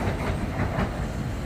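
A PATH train of four-car and two-car sets passing through Harrison station, a loud, continuous rumble with rhythmic wheel clatter and no voices over it.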